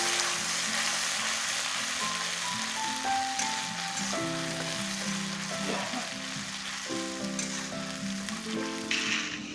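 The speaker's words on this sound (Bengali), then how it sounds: "দিয়ে খুব ভালো করে মশলাটাকে কষাবো বন্ধুরা।" A ground spice paste fries in oil in a pan as a continuous dense crackle, like rain, under a low tonal hum, with occasional stirring.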